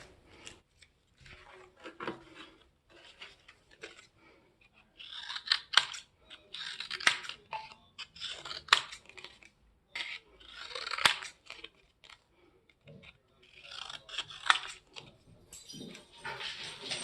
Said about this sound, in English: I'll rotate my cardboard to cut out a square.